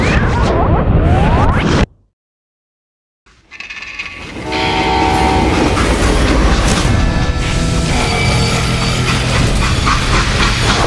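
A freight train in the Western video game Call of Juarez Gunslinger roars loudly, cuts to a brief silence, then rumbles back with steady rolling clatter, screeching metal and whistle-like tones that fill the rest.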